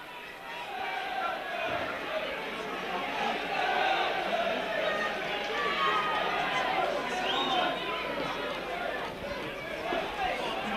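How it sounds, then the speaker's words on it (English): A rugby league crowd at a 1994-95 match against Wakefield cheers for Rovers, a broad sustained roar of many voices swelling and ebbing, with a commentator speaking over it. "And just listen to the crowd rising to this Rovers team."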